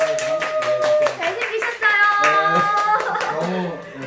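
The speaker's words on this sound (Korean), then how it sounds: "모두 박수로 맞이해 주셨으면 감사합니다" An audience at a talk concert claps to welcome a speaker, steady clapping sounding under music tones and voices talking nearby.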